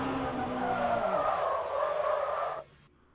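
Race car tyres skid and squeal loudly in oversteer in the Le Mans Ultimate racing game, a sustained screech with engine tone underneath that cuts off abruptly near the end.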